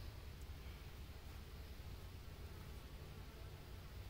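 Honeybees swarming around an open hive in July, a dense continuous buzz of many insects close by, steady and even in level with faint rustling, no voices.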